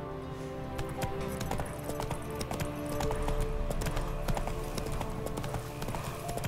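Roach the horse gallops in The Witcher 3, hooves pounding in a rapid, steady clip-clop rhythm over a dense game soundscape, continuous and fairly close throughout.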